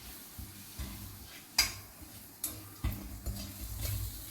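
Maggi noodles being stirred with masala in a pan: soft scraping and clinking of a spoon against the pan in a few distinct strokes, with a faint sizzle underneath, close and fairly quiet.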